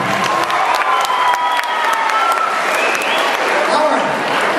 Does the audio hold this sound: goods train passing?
no